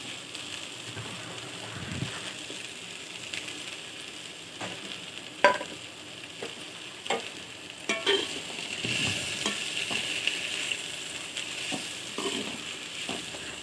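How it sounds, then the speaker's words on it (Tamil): Broad beans and grated coconut being stirred and sautéed in a pan for a Tamil-style avarakkai poriyal, with a steady sizzle and intermittent scraping spoon strokes throughout, no talking. "அதில் தேங்காய் துருவலை கொஞ்சம் கொட்டிடலாம் கொட்டி வதக்கிடலாம்"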